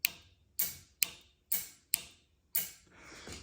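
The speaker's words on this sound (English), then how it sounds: "you can hear the solenoids click." Nitrous solenoids in a truck clicking sharply five or six times in an irregular rhythm, each snap close and crisp with a short decaying tail and no voices.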